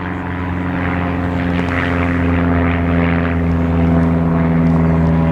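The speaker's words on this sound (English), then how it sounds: "it's one of the problems with public parks like this, right next to a regional airport. It's always loud" A propeller plane flies low over a public park beside a regional airport, its engine drone loud, steady and slowly swelling throughout.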